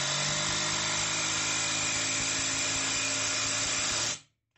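A ProStormer 17 cordless impact driver sinks a screw at power level 3, a steady high-pitched whirring drive that runs continuously for about four seconds, close and fairly loud, then stops abruptly into quiet.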